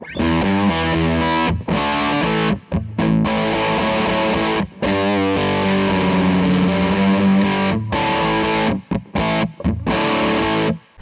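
A heavily fuzzed electric guitar through a Tone Bender fuzz pedal plays loud, thick chords and riffs, with brief gaps of silence between phrases.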